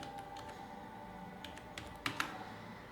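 Keystrokes on a computer keyboard entering a short terminal command, a sparse run of faint, quiet taps ending in two slightly sharper presses, over a steady low background hum.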